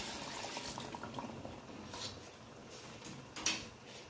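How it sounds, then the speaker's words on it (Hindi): Water runs and splashes into a cooking pot of crab curry for a few seconds, fairly quiet, ending with a short metallic clink. "देखिए मैंने इसमें पानी डाल दिया है, इतना पानी।"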